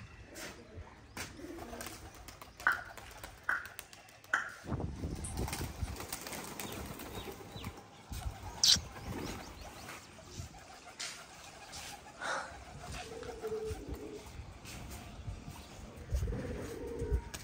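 Pigeons on a rooftop, soft intermittent cooing with a few chirps and brief wing flaps, faint and distant amid quiet ambient noise.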